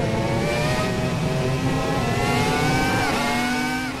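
A Formula 1 car engine wails at very high revs, nearly 20,000 RPM, with a steady piercing scream that climbs and shifts pitch near the end, loud and close.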